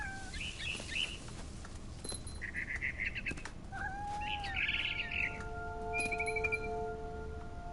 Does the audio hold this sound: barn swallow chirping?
yes